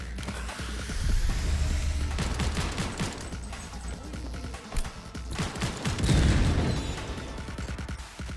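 Gunfire in Cyberpunk 2077, with repeated volleys of shots and heavy impacts cracking in quick succession, loud and near, swelling into a denser burst toward the end.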